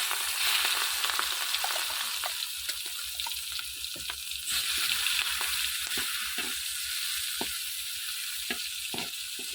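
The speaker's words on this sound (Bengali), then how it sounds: "তেল গরম হওয়ার পরে এর ভিতরে এক এক করে মাছ দেওয়া হবে" Prawns fry in hot soybean oil in a wok, producing a loud continuous hiss and crackle with scattered sharp pops and light utensil clicks throughout.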